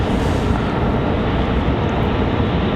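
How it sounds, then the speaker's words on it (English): A jet airliner departing Raleigh-Durham International Airport, a loud, dense, continuous engine roar close by with no voices over it. "So there we go, our second departure of the day."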